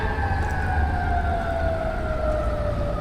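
Fire engine 16 runs its siren on the way to the White House in Washington, a loud, close wail that sweeps slowly downward and stays steady throughout.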